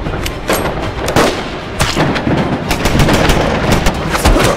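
Rifle gunfire rings out in a World War I battle scene from an animated short about Marines, a dense stream of sharp, loud shots and bursts overlapping with continuous battlefield din and no talking.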